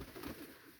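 Pigeons coo in a soft, low, continuous murmur outdoors, a faint steady warble without any talk.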